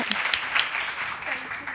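Conference audience applause, a short, moderately loud burst of mixed clapping with sharp individual claps on top.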